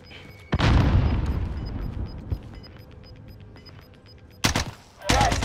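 A grenade blast and gunfire in Call of Duty Warzone: a sharp loud boom, then a rumbling tail with scattered shots, and two more abrupt loud bursts near the end.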